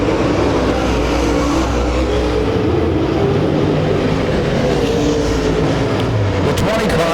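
Race cars lapping at Lake Ozark Speedway during a heat race, engines roaring loud and continuous from close by, with a race announcer talking over them.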